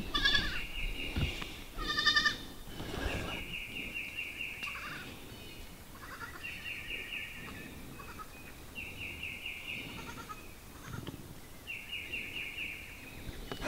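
Goats in a farmyard near the barn at midday nap time bleat repeatedly in short nasal bursts, some near and some farther off, over quiet outdoor background noise.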